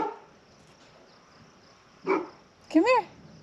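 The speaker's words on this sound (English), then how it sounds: "Mr. Man, what are you barking at?" A dog at an off-grid homestead under construction gives two short barks, the second a higher, yelping bark, against quiet surroundings.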